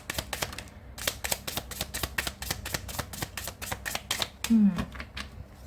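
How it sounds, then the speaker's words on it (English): A deck of tarot cards is riffle-shuffled close up, a dense burst of crisp flapping clicks that pauses briefly and resumes, followed by a short muffled thud near the end. "one more shuffle"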